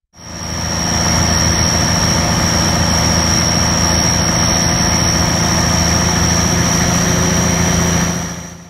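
A Cummins big cam heavy diesel truck engine idles steadily with a deep, rumbling low throb and a faint high whine, loud and constant throughout.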